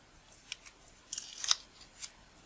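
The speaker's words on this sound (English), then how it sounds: "now we can remove our tape" Adhesive tape peeled away from a Sigma 90mm f/2.8 macro lens during a fungus-cleaning repair: a few short, crisp ripping bursts, close and quiet, with a longer tearing stretch in the middle.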